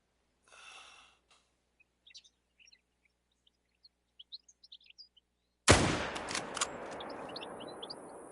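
A hunting rifle fires once in theHunter: Call of the Wild, a loud, sudden crack with a long rolling echo across an open outdoor scene after quiet birdsong and scattered chirps.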